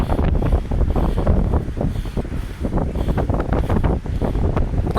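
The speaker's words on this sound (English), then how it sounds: "it's windy out" Strong wind beside the Missouri River buffets the microphone in loud, gusty, rumbling surges that rise and fall continuously, with no voices.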